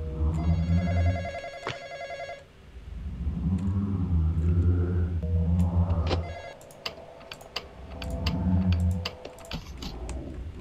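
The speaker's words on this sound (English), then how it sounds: "When you hear the phone call, don't get it." A telephone rings in the Roblox horror game The Intruder, sounding as a sharp, even, repeating bell tone near the start. Low game ambience and a few faint clicks run beneath it.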